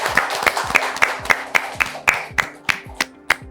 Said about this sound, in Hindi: इनके लिए एक बार जोरदार तालियां हो जाए भाई।